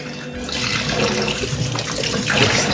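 Hot water runs steadily from a tap while an octopus bladder is rinsed and cleaned under it, a constant splashing hiss with no pauses.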